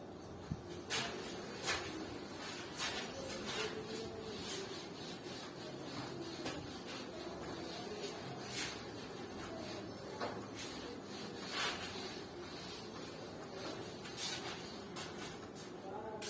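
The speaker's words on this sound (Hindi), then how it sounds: "मैं रब कर रहा हूं" A teacher rubs out a board during a physics lesson, producing repeated soft scraping strokes in an irregular rhythm, fairly faint and close, with quiet room noise around them.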